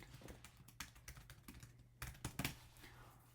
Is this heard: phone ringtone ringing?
no